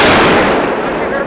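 A single powerful howitzer blast booms close by at a front-line position at night, a broad roaring burst that fills the moment without any talk.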